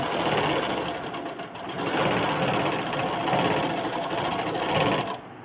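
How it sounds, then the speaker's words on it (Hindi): A sewing machine stitches a rounded seam on a blouse, running in a steady, close, continuous whir for about five seconds before stopping abruptly. "तो इससे हम यहाँ से राउंडिंग सिलाई करते हैं, ठीक, इस तरह से।"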